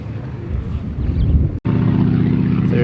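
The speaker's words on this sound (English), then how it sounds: "A Dormoy bathtub, whatever that is. Like a little light," An engine drones steadily close by at a vintage airshow, taken to be a Dormoy Bathtub ultralight plane. The drone cuts out briefly for an instant, then resumes as a continuous buzzing hum.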